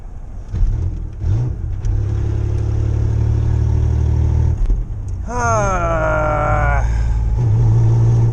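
A Ford Ranger truck engine runs rough and fails to idle, giving a loud, close, steady low drone with a whining tone that rises and falls midway.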